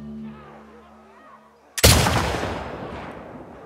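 A single loud rifle shot in The Last of Us Part II cracks sharply after a quiet stretch of low ambient hum, then rolls off in a long decaying echo.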